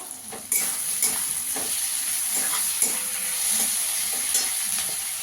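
Green chillies drop into onions already frying in a pan for ghugni, a sharp burst of sizzle near the start that settles into a steady close fry with a few stirring scrapes.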